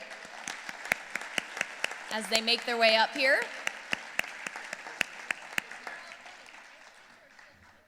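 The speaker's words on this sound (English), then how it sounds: "Let's give them a round of applause" Audience applause fills a room at an education foundation dinner, steady clapping under a presenter's amplified voice, swelling briefly in the middle before thinning out.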